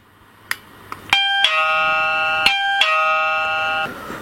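A wireless house doorbell that is rechargeable with an on/off switch plays its chime: a sustained multi-tone bell melody rings out loud and clear for about three seconds, with a few soft taps just before it starts.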